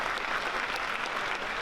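Steady, dense applause from a forum audience thanking the speakers at a South Florida real estate event, filling the whole moment at moderate level with no pause.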